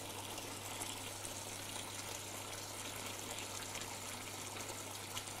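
Water runs steadily into a cooking pot being filled for a duck dish, a continuous gushing, splashing flow at an even moderate level with no talk.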